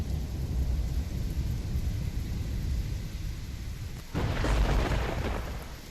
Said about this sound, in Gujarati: અમદાવાદના મીઠાખડી અને અમદાવાદના પાલડી વિસ્તારમાં હાલ ઝરમર વરસાદ વરસી રહ્યો છે।